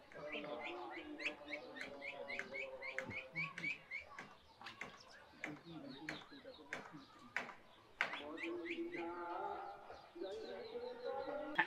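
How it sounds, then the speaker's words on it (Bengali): A purple sunbird calls on a rooftop with quick, high chirps and short twittering phrases, fairly close, while a voice speaks over much of it. "নাম হলো দুর্গা টুনটুনি, পার্পল সান বার্ড ইংলিশ নাম"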